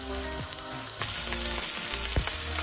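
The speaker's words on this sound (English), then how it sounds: "I think I hear a little bit of sizzle now" Chorizo sizzles and crackles steadily in a hot frying pan, close and fairly loud, with a few soft clinks and scrapes.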